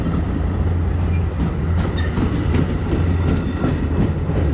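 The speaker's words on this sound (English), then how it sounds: "I see the light for that train headed east, so the 2 trains will meet" Eastbound commuter train rolling into a New Jersey station, a loud continuous low rumble with rail clatter and faint wheel squeal, close and steady.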